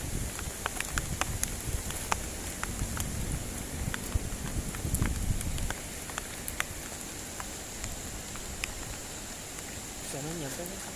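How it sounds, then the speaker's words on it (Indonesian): Heavy rain pours at a bridge, a constant broad hiss dotted with sharp drip and splash ticks. A heavier rush near the start fades to a steadier, quieter patter. "Ini hujannya makin deras ini."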